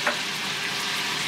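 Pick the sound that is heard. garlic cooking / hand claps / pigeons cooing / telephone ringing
garlic cooking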